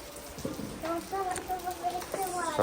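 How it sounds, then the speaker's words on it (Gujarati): Light monsoon drizzle patters steadily as a soft, even hiss outside a home, with a voice talking over it for most of the stretch. "રીમઝીમ વરસાદ વરસી રહ્યું છે"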